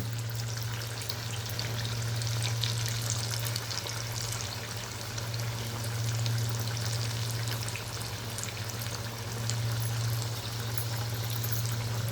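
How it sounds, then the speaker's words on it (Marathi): Coriander vadi (kothimbir vadi) frying in hot oil over a medium gas flame, a steady close sizzle and bubbling hiss that continues evenly throughout with a faint low hum beneath. "मध्यम गॅसवरच तळून घ्यायच्या वड्या"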